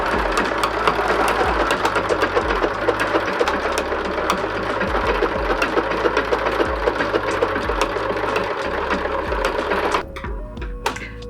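Domestic sewing machine running a decorative stitch with glow-in-the-dark thread, a loud, fast, steady mechanical whirring and ticking that runs continuously for about ten seconds, then stops abruptly with a few faint clicks.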